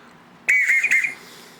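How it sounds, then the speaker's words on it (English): A single toy whistle is blown once, a shrill wavering tone lasting about half a second, loud and close, then silence. "Yep, that's a whistle."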